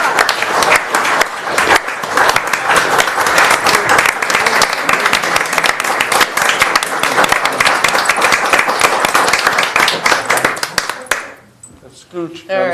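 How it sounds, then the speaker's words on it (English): Applause at a city commission meeting honoring a group of boys, loud and sustained crowd clapping with voices mixed in, which thins out near the end into a few scattered sounds. "let's give these boys a round of applause"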